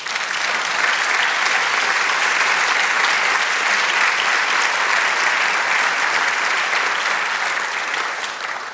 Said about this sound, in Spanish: Quiero un aplauso al Señor.